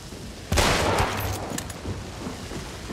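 Gunfire in the video game Hunt: Showdown: a loud burst of shots hits around the half-second mark, followed by scattered rumbling reports and echoes that trail off.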